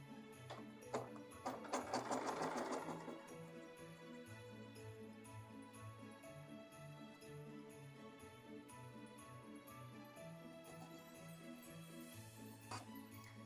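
A sewing machine stitches out a Santa sock in a quiet room, a faint, steady mechanical whir with a brief louder rattling burst near the start, then soft continuous running.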